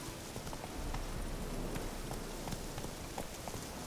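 Roach the horse trotting in The Witcher 3, a steady run of close hoof clip-clops with a soft rain-like hiss underneath and no voices.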